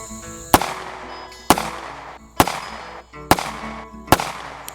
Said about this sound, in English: And there's 5 quick shots right there.